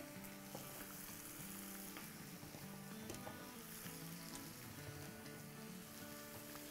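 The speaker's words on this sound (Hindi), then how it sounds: "अब हम अपनी इसमें वेजिटेबल डालना शुरू करते हैं चल इसमें हम अपने मशरूम्स भी डाल देंगे" Vegetables and mushrooms sauté in a hot pan for chow mein, producing a continuous, even sizzle with light stirring sounds close by.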